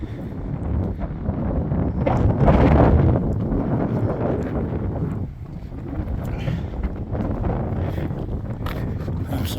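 Cold wind gusts across a mountain trail near Mills Lake in Rocky Mountain National Park, buffeting the microphone with a loud, steady roar that swells briefly before easing to a constant rush.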